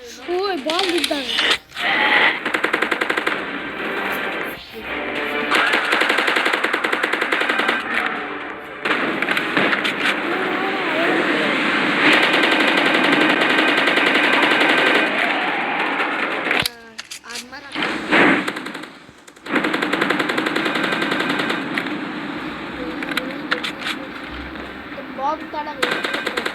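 Firecracker bombs bursting in rapid, crackling volleys like machine-gun fire, loud and sustained through most of the stretch with brief pauses, while people talk over the noise.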